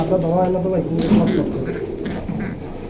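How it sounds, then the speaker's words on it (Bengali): A large male pigeon at a bird seller's coos in a low, wavering call at the start, while people talk nearby and the coo fades under their voices. "দেখছেন ডাকে কেমনে কবুতরটা"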